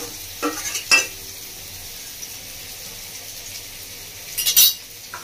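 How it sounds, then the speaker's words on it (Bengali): Pointed gourd (potol) frying in a pan, a low continuous sizzle close by, broken by a couple of spatula scrapes near the start and another burst of stirring near the end, with no talking. "লবণটা আমি পটলটা ভাজার সময় দিচ্ছি, আপনারা ভাজার সময় দেবেন"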